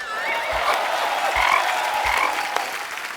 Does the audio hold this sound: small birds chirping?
no